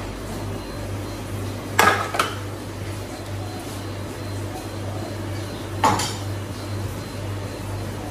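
Metal utensils clink against a grill pan while coconut oil and garlic are cooking, a few sharp knocks rising over a steady kitchen hum with no talking.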